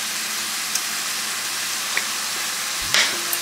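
Seasoned food frying and browning in a pan, a steady soft hiss and sizzle with a few light clinks and a brief scrape of utensils, no talking.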